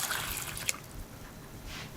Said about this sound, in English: Cover them with water.